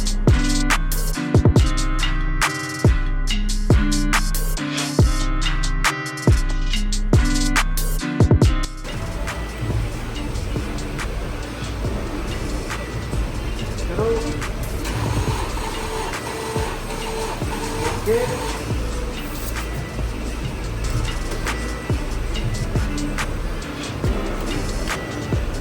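A Ram EcoDiesel engine cranks with a series of uneven mechanical bursts, then catches and settles into a continuous, steady diesel running drone that fills the rest of the clip.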